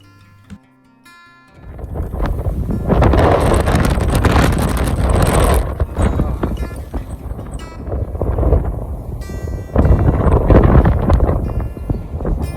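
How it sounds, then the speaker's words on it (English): Strong wind roars across the microphone in heavy, continuous gusts during outdoor plein air painting, loud and buffeting after a short quiet start. "Okay, this is crazy windy. I'm getting everything blown away."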